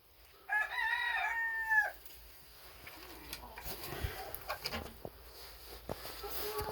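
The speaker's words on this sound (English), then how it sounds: "we got some hens in the box laying some eggs" A rooster crows once, loud and close, near the start; afterward hens in a laying box give soft, scattered clucks and rustles at a lower level.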